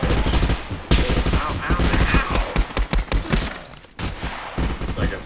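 Rapid gunfire bursts from a sniper and other weapons in the VR survival shooter Contractors, loud and dense, with sharp repeated shots and brief pauses, and a voice mixed in now and then.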